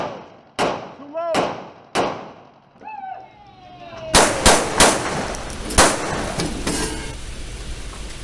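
Combat pistol shots at target practice, several sharp separate reports ringing out, then a quicker cluster of shots with echo, while a voice speaks between them.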